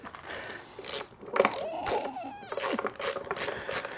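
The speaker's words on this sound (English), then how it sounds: "It's so convenient having a nice ratcheting screwdriver." A ratcheting screwdriver fastening replacement feet onto an SVS SB 5000 subwoofer, quick rattling ratchet clicks in short bursts, close and fairly quiet.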